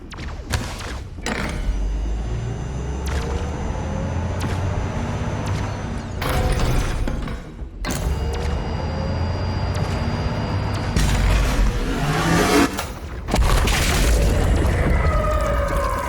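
Heavy booming explosion of a destroyed target in the Doom shooter, several loud deep blasts and thuds separated by short gaps, with rumbling debris and rushing noise trailing after each.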